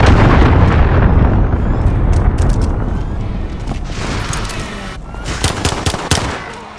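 Cruise missile strike in a Call of Duty match on the Shoot House map, a heavy rumbling explosion up front that fades, followed by sharp bursts of gunfire and debris crackle.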